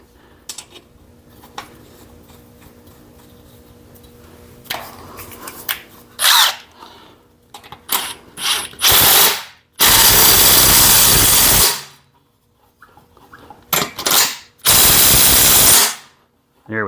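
A power tool tightens the blade on a 1990s Lawn Boy Silver Series lawnmower, with short loud whirring bursts separated by pauses and scattered clanks of handling nearby.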